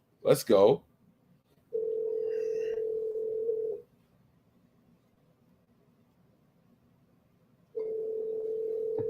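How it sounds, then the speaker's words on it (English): A phone call rings out in two long steady tones separated by a gap of silence, following a brief burst of dialing or voice sound at the start. "Okay, it rang."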